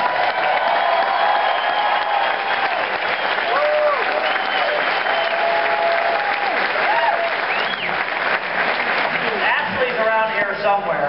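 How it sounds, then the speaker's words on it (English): Sustained audience applause with some cheering at a live event in Chicago, dense and steady for the whole stretch, with a few voices calling out over the clapping. "Give our women a round of applause."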